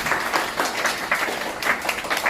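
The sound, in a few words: audience applause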